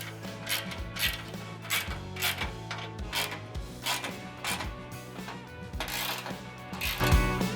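A ratchet tightens skid plate bolts on a 2024 Toyota Tacoma in a steady run of close, rhythmic clicking pulls, each stroke a short rasping burst, with no talking.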